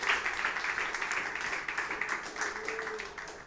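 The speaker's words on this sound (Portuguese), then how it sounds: "Pode exaltar o Senhor dos Exércitos com palmas" A church congregation claps for Jesus in a steady, continuous round of applause, fairly distant and even, with no talk over it.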